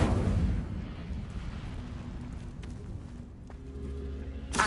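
A fiery Incendio spell effect in a wizarding game whooshes and rumbles in a loud burst, settles into a sustained low crackling roar, then flares again sharply at the end; nobody speaks.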